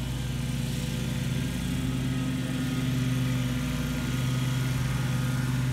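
A lawn mower engine runs steadily while cutting the grass of a residential yard, a close, continuous mid-pitched drone with a constant hum and no pauses.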